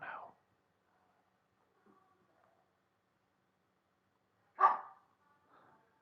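A dog gives two short, sharp barks, one at the start and a louder one near the end, with long silent gaps and faint whimpering sounds in between; close but quiet overall.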